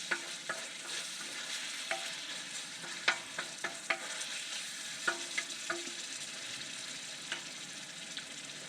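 Spoon stirring sizzling food in a frying pan after a dab of hot sauce, a steady frying hiss broken by scattered clinks and scrapes of the utensil against the pan, close and moderately loud with no talking.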